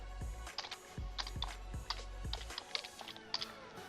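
Quick bursts of keystrokes on a computer keyboard, light close clicks in short uneven runs over a low background hum, with no talking.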